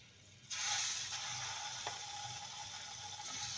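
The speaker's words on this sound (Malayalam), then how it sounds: "ഞാനിപ്പോൾ ഒരു പാൻ ചൂടാക്കിയിട്ട് അതിലേക്ക് ബട്ടർ ഇട്ടു." Butter melting in a hot pan gives a steady, soft sizzle that starts abruptly and continues quietly to the end, with no talk.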